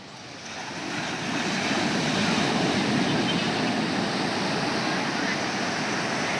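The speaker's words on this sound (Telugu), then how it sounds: "కాదు అలలు చూడు ఎలా వస్తున్నాయో" Ocean waves break on a shore at night in a loud, continuous roaring wash, swelling in within the first second and holding steady, with wind buffeting the microphone.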